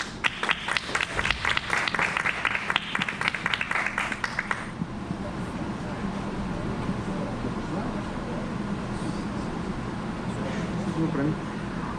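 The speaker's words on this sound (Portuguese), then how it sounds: "Uma salva de palmas para Leonardo Lopes." Applause for a speaker at a Liberty Open 2022 conference talk, with a few sharp close claps up front over a dense crowd that fades into a softer, sustained hall wash.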